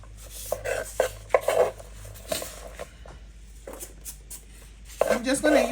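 Onions for meatballs are chopped with a knife on a cutting board in a home kitchen, irregular close knocks and taps in short bursts with quiet gaps between them.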